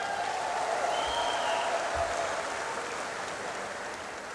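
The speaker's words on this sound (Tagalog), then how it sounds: "Parang mahina yata yung palakpak niya." An audience claps at a TESDA scholars' day speech, a steady sustained patter of many hands, moderately loud throughout with a faint tone drifting over it.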